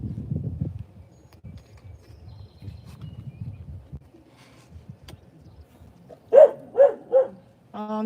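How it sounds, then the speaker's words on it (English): A house dog barks three times in quick succession, fairly close and loud, after a long stretch of low indistinct murmuring and background noise; a brief tonal sound follows at the end. "There goes my dog barking at somebody."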